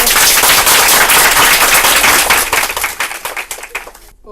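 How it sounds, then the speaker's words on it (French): A studio audience on a French TV game show claps loudly in a dense burst that thins into scattered individual claps before stopping abruptly. "donc on applaudit le public"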